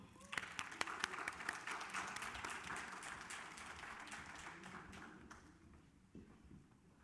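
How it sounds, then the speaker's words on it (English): Applause from a conference audience welcoming a speaker, crisp distinct claps at first that fill into steady clapping, then taper and fade toward the end. "Please give Danielle a round of applause"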